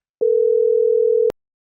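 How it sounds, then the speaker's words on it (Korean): A telephone call is placed and a single steady electronic tone sounds for about a second, clean and loud, then cuts off with a click, with no talk around it. "남편에게 전화를 걸었습니다."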